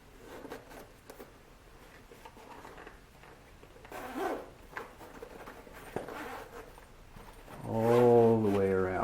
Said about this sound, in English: If you fight it out of there, you can unzip it.